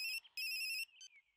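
A phone ringtone plays in a Telugu comedy film scene: two bright electronic tone bursts, the second longer, then a short softer tail, clear and with no talking.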